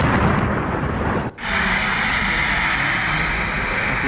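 A loud, sustained roaring blast from a plane crash in Ahmedabad fills the clip, briefly cutting out before resuming as a heavy rumbling roar, like a large explosion.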